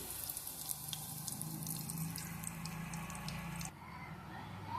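Curry leaves hit hot frying oil before a chora fish fry, giving a soft crackling sizzle with scattered pops for several seconds before it abruptly quiets.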